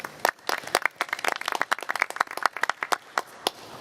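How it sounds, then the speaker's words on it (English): An audience at a sustainability coalition meeting gives a round of applause, with sharp individual claps from a modest group. The claps run close and uneven for a few seconds, with no talking over them. "let's please give ourselves a round of applause, give you a round of applause for the incredible work you do all year"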